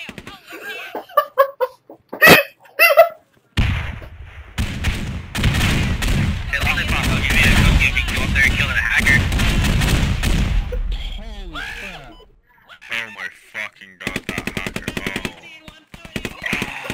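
Sustained heavy gunfire from enemy air support in the military shooter game Squad, a dense roaring barrage lasting several seconds after scattered shots, with voices and radio chatter before and after.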